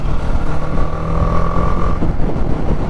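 A BMW G310R, a 310cc single-cylinder motorcycle, runs steadily while being ridden, giving a close, continuous engine drone with a held tone and no speech.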